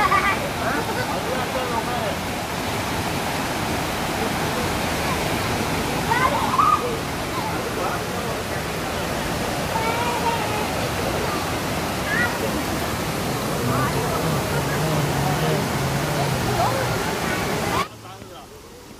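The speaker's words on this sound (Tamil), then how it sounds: "ஃபால்ஸோட சத்தம் உங்களுக்கு கேட்கும்." Aanai Maduvu waterfall near Bommudi, Dharmapuri roars as a broad, steady rush of falling water nearby, with people talking over it and a brief drop at the very end.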